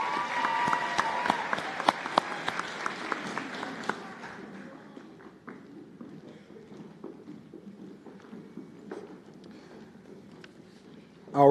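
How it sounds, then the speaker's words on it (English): Applause at a nursing school white coat ceremony, dense clapping with crisp individual claps that thins out and dies away after about four seconds, leaving quiet room sound and murmuring voices. "Another round of applause for this group"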